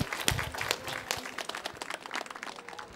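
Audience at a space-themed conference talk gives a round of scattered, uneven clapping close to the recorder, with individual hand claps standing out over a thinner crowd.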